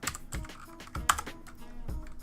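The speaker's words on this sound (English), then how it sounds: "so we're just going to be typing in template there" Brisk clicking of a computer keyboard as text is typed into image-editing software, irregular close keystrokes with a few sharper taps, no talking.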